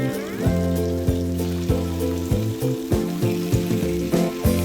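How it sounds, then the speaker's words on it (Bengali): Meat frying in a pan over a high flame, a steady sizzle with periodic spitting pops, close by, with a tonal musical backdrop running throughout. "তাই আমি আগে হাই ফ্লেমে মাংসটাকে ভেজে নিচ্ছি।"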